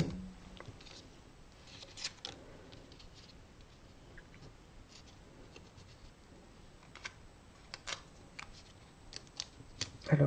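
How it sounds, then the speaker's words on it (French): Adhesive tape is pulled and torn from a roll during an Easter basket paper craft, with faint, close crackling rips and small taps over quiet room noise. "Hop, on prend un bout de scotch."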